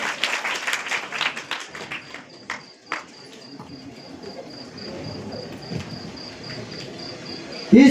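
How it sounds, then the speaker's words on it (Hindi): Audience at a village gathering bursts into loud, close clapping that fades after a few seconds into a steady background chorus of crickets. "जोरदार तालियों के साथ।"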